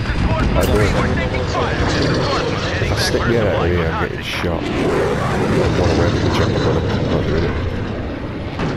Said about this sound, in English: Is that my chopper?